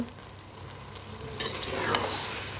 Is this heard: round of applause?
no